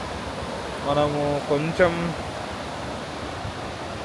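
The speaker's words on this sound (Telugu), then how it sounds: "ఇదిగో కనిపిస్తున్నాయా, అలలు చాలా దగ్గరగా వస్తున్నాయి." Sea waves at Portobello Beach, Edinburgh, give a steady, hushing wash of surf throughout, with a person speaking briefly near the middle over the noise.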